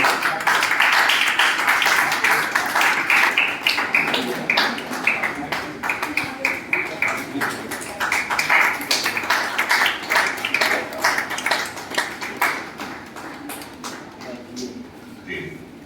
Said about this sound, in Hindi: हम तालियां बजा करके अभिनंदन में इनका सम्मान करें।